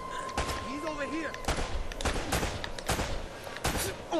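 Pistol shots and impacts from the game Uncharted: Drake's Fortune, sharp bursts repeating every half second or so over game sound effects, with a player talking at times.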